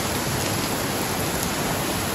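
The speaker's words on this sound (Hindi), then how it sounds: "अभी जो है ऐसी बारिश हो रही है" Heavy rain pours down in a dense, steady, loud hiss that fills the space evenly with no breaks.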